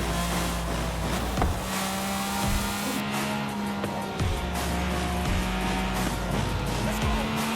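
A Pagani Zonda R supercar with 952 horsepower drones steadily, its engine tone climbing and dropping at several gear shifts, with possible tire squeal. The engine is loud and continuous, with no voices over it.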